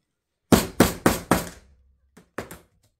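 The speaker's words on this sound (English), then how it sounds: "Okay, I'm about to hammer." Hammer striking a leatherworking tool, four sharp knocks in quick succession followed by a pause and three lighter taps, each one a close, crisp impact with a short ringing decay.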